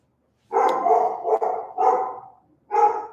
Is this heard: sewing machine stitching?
no